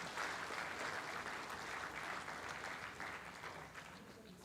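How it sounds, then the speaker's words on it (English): A conference audience at an aerospace gathering applauds steadily, a faint, even patter of many hands clapping without pause. "They deserve applause."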